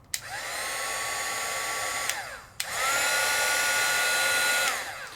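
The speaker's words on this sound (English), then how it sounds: "So this is the Sizzix heat tool," A two-speed Sizzix heat tool blows hot air with a loud, steady whine. It runs for about two seconds, cuts off briefly, then restarts for another two seconds before winding down.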